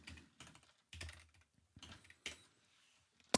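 Keys clack on a Keychron mechanical keyboard in irregular bursts of typing, close and fairly quiet, with a sharper louder keystroke near the end and no talking.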